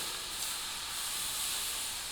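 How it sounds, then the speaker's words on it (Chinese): Hot oil poured over cumin powder, toasted sesame, chili and salt sizzles in a dense, steady hiss, close and continuous for the whole moment before cutting off. "浇热油"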